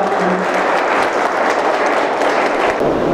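Loud, dense applause from a gathered crowd at the inauguration of a CCC computer course at Manav Seva Sansthan, Sujangarh, with many hands clapping steadily and close throughout.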